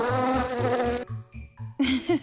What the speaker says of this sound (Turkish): Bir sinek saldırdı.